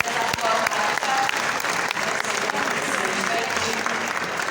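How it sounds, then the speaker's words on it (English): A conference audience at the EID Summit applauds a speaker with steady, dense clapping that stays loud and even throughout, with a few voices faintly mixed in. "Please, ladies and gentlemen, let's applaud her."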